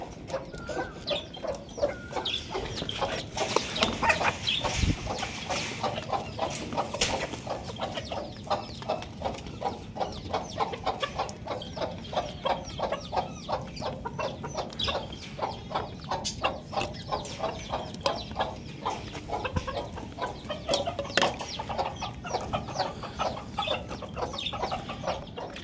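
Chickens being fed cluck and chatter continuously at moderate distance, a busy, scratchy flock sound with overlapping short calls throughout.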